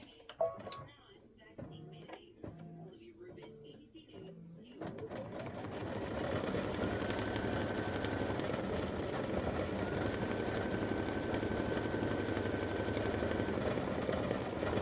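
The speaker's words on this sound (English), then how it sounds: "now it's going to stitch the band on the football" Embroidery machine stitching a band on a football design in fabric, beginning with sparse clicks and knocks, then settling into a steady rapid mechanical whirring and ticking rhythm that continues to the end, with a person speaking faintly nearby.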